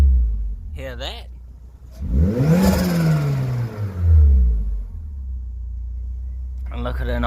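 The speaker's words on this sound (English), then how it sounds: "And look at a nice, perfectly then smooth idle." A TM-square turbocharged Suzuki Swift ZC31S engine runs close by with a low steady rumble, swelling briefly in a short rev before settling back, while people talk over it.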